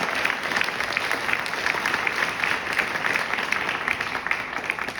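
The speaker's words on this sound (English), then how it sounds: "Can y'all give them a round of applause?" A crowd at a 100th birthday and 75th anniversary celebration gives a couple a round of applause, dense and steady clapping sustained evenly from start to finish.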